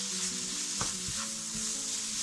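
Raw mango pieces are sautéed briefly in a pan for a chicken curry, giving a steady close sizzle with a few soft stirring scrapes and a low background hum.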